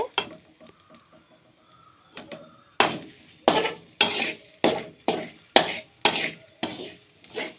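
Papadam thoran is stirred in a pan with a spoon, giving a run of regular scraping, clattering strokes, about two per second, close and fairly loud after some quieter clinks and handling noise.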